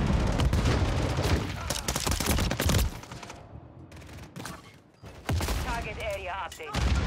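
A stun grenade and rapid gunfire crackle through a Call of Duty Modern Warfare 3 multiplayer match on the Tokyo map, with dense bursts of shots, a brief lull, then renewed firing close and loud.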